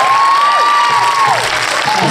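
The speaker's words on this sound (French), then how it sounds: "on va les applaudir très très fort" Audience applauding at the Alad'2 film premiere as the cast and filmmakers are introduced: steady, dense clapping from a large crowd throughout, with a faint whistling tone and background murmur.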